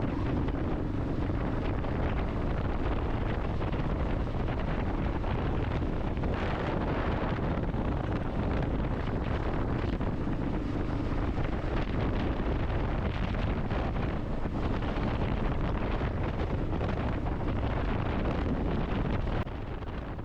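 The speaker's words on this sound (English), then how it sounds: "Pretty windy day today," Steady, roaring wind buffets the microphone throughout on a motorcycle ride near a West Texas lake, a constant loud rumble with no pauses and no voices.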